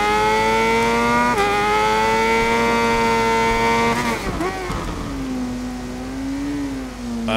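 Race bike engines screaming in a Ride 5 night race, a steady high-pitched whine with a sharp gear shift near the start and another drop midway, then the pitch wavering as the bike slows and climbs again.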